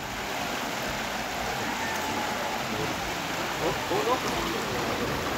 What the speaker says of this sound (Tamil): தண்ணி போகிற சவுண்டை கேளுங்க.